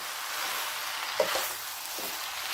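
Shrimp and stir-fried noodles sizzle steadily in a hot pan, a continuous bright frying hiss with a few soft clacks and scrapes of stirring near the middle and end.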